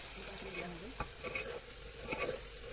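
Soft, steady sizzling of onions frying in a pan, with a few scraping stirs and faint clinks, quiet throughout with no voices.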